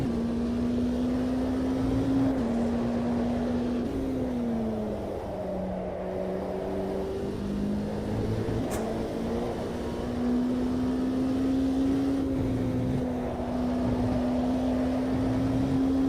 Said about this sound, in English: You hear the transmission whine as well when you get into the lower revs.